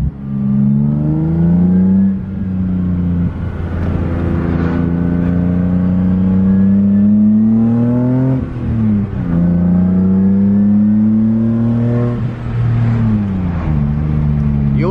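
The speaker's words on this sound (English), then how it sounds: "hear just as much induction noise as you do exhaust noise" A BMW E30 with an M50 engine and full 3-inch exhaust revs repeatedly, pitch rising and falling with each throttle blip, loud and close with a deep exhaust drone and intake roar.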